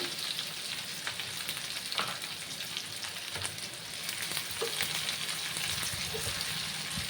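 Chopped onions hiss and sizzle steadily in hot oil in a pan with potatoes and fish roe, a close, continuous frying crackle with a few faint stirring knocks and no talking.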